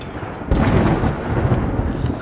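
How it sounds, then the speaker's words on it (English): Thunder of an approaching rainforest storm breaks in after a quieter start as a broad, loud rumble that rolls on steadily to the end, with no speech. "And there's a storm coming."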